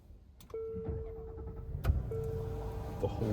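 An Infiniti QX80 engine starts up, heard from inside the cabin as a low rumble alongside a pair of electronic chime tones and small clicks.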